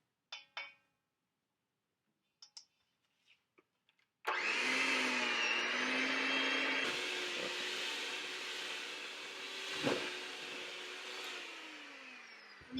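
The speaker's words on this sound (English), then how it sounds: "So now you're going to beat all of this together." An electric mixer beats sticky marshmallow fluff filling for gluten-free whoopie pies, starting with a few light clinks, then running as a loud, continuous whir with slight shifts in pitch and a brief knock partway through.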